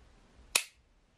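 The Secutor Bellum V 6mm CO2 pistol firing a single shot as the trigger breaks: one sharp, crisp pop that dies away quickly in an otherwise quiet space.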